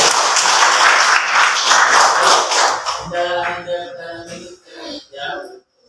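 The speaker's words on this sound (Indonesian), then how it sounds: "Tepuk tangan untuk kalian." Students in an Indonesian classroom burst into loud, dense clapping for about three seconds, which then thins into scattered claps as a voice speaks.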